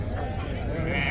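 Goats bleat amid the crowd at a goat and pig livestock fair in João Alfredo, Pernambuco, a few wavering cries rising over a busy background of talking people.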